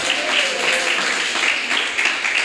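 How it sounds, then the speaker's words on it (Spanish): A church congregation at a Spanish-language service gives a strong round of applause, a soft, even wash of many distant hands clapping, steady and unbroken with no voice on top. "Alguien puede dar un fuerte aplauso al Señor por eso."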